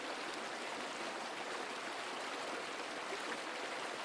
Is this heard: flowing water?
yes